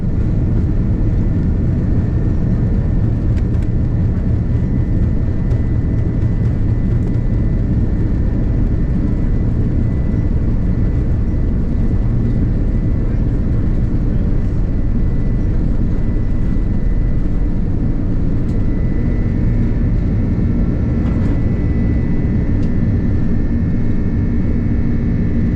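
Steady cabin drone of a Delta Airlines Airbus A330-300 during pushback and taxi before departure from Atlanta, a constant low engine and airframe rumble, even and unbroken throughout with no voices.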